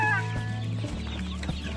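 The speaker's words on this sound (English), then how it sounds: "And then there's little chickens over here, Lou." Chickens cluck close by in rural Bulgaria in a short burst of throaty, repeated calls, with other birds faintly chattering around them.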